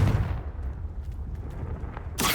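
A fiery spell blast booms in the video game Hogwarts Legacy: a loud low-frequency burst at the start settles into a rumbling fireball roar, with a second sharp blast hitting near the end.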